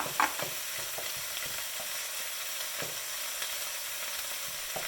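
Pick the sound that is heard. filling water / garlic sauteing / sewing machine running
garlic sauteing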